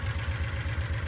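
A tractor engine idles steadily close by, a low, even rumble with a quick repeating pulse and no other sounds over it.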